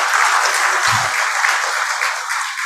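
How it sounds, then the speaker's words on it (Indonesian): Steady applause from an audience honouring Pak Jiteng at a PLN tribute event, a dense continuous clapping that stays loud throughout, with a brief low thump partway in. "Aplaus lagi untuk Pak Jiteng"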